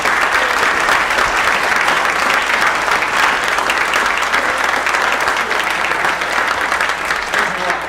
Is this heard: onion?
no